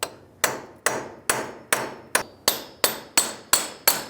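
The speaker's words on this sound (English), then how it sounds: "With a punch and a hammer, hammer right on the inside here." A hammer strikes a punch on a 2003-2009 Toyota 4Runner front wheel hub ten times in a steady, even rhythm, each blow a sharp ringing clank that fades quickly before the next.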